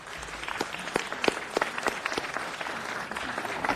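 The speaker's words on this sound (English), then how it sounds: "Let's give them all a big round of applause." Audience applause at a city council meeting for East Los Angeles YMCA youth delegates, steady dense clapping that holds even and loud throughout, with no voices over it.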